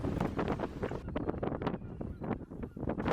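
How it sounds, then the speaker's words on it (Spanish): Strong, cold wind buffeting a microphone on Isla Magdalena near Punta Arenas, a continuous loud rumbling roar with gusty bursts, no voices. "No sé si se escucha en el audio, pero corre mucho viento y es frío."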